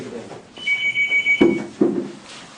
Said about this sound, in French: On a oublié d'éteindre le téléphone.